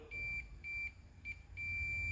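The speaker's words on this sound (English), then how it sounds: "hear that beep" A Fluke voltmeter in continuity mode gives four steady, high-pitched beeps against a metal piece during an RV backup light repair. The beeps vary in length, with short gaps between them, over a low hum.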